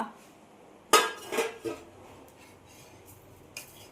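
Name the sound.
plate being fetched in a kitchen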